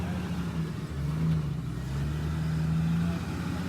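A lifted Jeep YJ on 35-inch tires climbs a rocky obstacle on the John Bull Trail in Big Bear, its engine droning low and steady with slight revving swells, close by and continuous.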